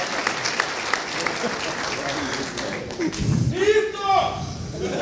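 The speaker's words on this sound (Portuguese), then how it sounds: "Só aí, William, aplausos para o William." Audience applause at a lecture, a burst of clapping that swells partway through and carries on to the end, with voices talking over it.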